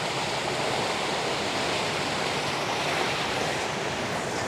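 Water streaming steadily past a water wheel outdoors, a dense, continuous rushing roar that stays loud and unchanging throughout, with no voices.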